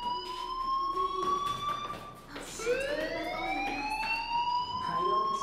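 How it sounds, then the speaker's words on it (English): A fire alarm rings in the video game Life Is Strange, a loud continuous electronic tone with rising sweeps that briefly dips and restarts, steady throughout the clip. "Hey, do you hear that fire alarm?"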